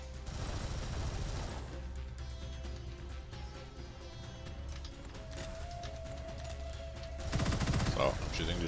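Steady gunfire aimed at an enemy in the FPS roguelite Gunfire Reborn, a continuous muffled stream of shots over a low game drone, growing louder near the end.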